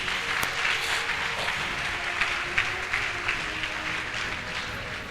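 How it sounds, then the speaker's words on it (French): A church congregation at a prophecy, deliverance and healing service applauds the Holy Spirit, a sustained wash of clapping from many hands that holds steady for several seconds with faint voices mixed in. "Ça va acclamer le Saint-Esprit."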